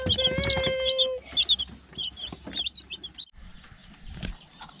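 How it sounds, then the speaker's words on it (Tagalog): Several farm chickens cluck and chatter close by in short bursts in Occidental Mindoro, with a higher chirping call at the start and a sharp rustle near the end. "ang aming mga alagang manok nagsikalat dito sa bukid"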